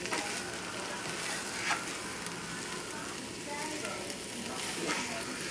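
Potato casserole ingredients with cheese, bacon, basil and garlic sizzle steadily in a pan over a moderate flame, a constant soft crackling hiss with occasional light stirring scrapes.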